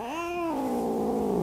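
A close cat gives a single drawn-out meow, rising then sliding down into a low, whining tail over about a second and a half, with no other sound.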